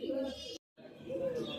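Fancy pigeons coo softly in low, rounded calls at pigeon stalls in the Kalitola weekly market, broken by a brief silent gap and set against faint market background noise.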